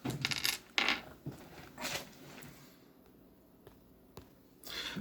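A die drops during a Strat-O-Matic tabletop baseball game: a burst of sharp clattering taps and rattles up close, then a few scattered lighter knocks as things settle.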